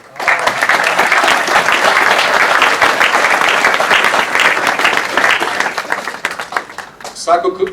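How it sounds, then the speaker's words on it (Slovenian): Audience applause greets the guest, the first tenor of a male singing group, at a memorial plaque unveiling ceremony; sustained, dense clapping from a sizable crowd fills the room, thinning out near the end. "Pozdrav vzajemnim aplavzom predlagam"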